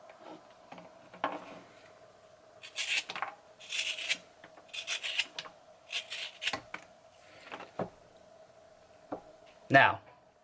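A knife blade is drawn in a few swipes along a strop on both sides, giving short rasping rubs separated by pauses, close and moderately loud, with a steady hum underneath and a sharper scrape at the end.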